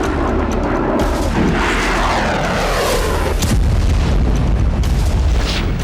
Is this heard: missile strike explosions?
yes